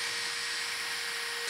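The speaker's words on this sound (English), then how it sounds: "So now we're gonna drill the holes." A power drill bores pocket holes in wood, a steady high-pitched whine running continuously and fairly close with no talking.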